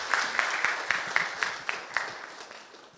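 Scattered applause from a small audience at a film interview: a handful of sharp claps in a loose, uneven rhythm, softening as it fades out over a few seconds.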